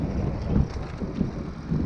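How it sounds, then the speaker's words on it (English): Steady wind buffeting the microphone during a recumbent bicycle ride, a low rumbling roar with periodic gusts swelling and fading, no voices. "It wasn't windy before, it is now."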